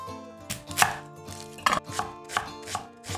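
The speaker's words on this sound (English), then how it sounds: "So we'll go ahead and chop our garlic" A knife chops garlic on a cutting board for risotto, about seven sharp knocks at a slightly uneven pace, close and clear with no speech.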